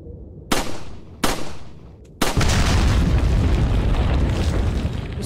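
Bombs explode in the Resident Evil 4 video game: two sharp, loud blasts about a second apart, then a third larger boom that rolls straight into a sustained, heavy rumbling roar.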